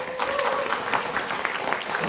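An audience in the Busan City Hall auditorium applauds at an award ceremony, a steady, fairly dense clapping that runs throughout, with a faint voice or tone underneath.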